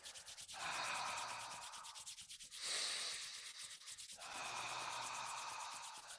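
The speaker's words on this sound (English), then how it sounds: "Rubbing the hands together." Two hands rubbing briskly together during a qi gong warm-up, steady close dry friction in three bursts separated by short pauses, quiet and alone.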